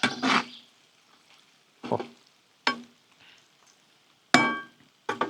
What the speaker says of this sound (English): Let's stir this up here a little bit.